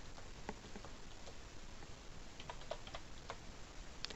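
Typing on a computer keyboard, quick irregular key clicks scattered through the clip against a steady background hiss, no talking.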